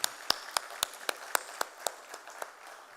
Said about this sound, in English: So a huge round of applause for him and his success story.